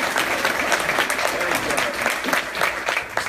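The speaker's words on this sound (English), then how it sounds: "So we give a round of applause to Ray." Loud, dense applause from an audience at a town hall meeting, continuous crowd clapping throughout with no talk over it.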